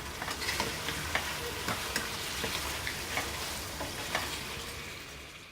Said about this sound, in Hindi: अब इसमें चिकन शामिल करेंगे। अब इसको अच्छी तरह भून लेंगे।